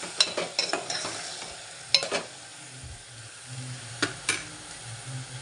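Mutton being stirred in a cooking pot, with scraping stir strokes over a soft background sizzle, coming in uneven bursts.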